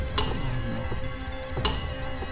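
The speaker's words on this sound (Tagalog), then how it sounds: "Is it okay to stop ringing the bell?" A bell rings twice inside an allegedly haunted mansion, two bright metallic strikes about a second and a half apart that ring over steady low room noise.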